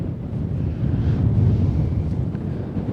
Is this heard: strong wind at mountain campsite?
yes